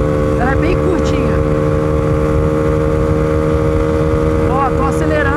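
A Honda Pop 120 motorcycle engine hums loudly and continuously on a short downhill, its pitch climbing as it accelerates toward top speed, with a voice speaking briefly over the engine noise.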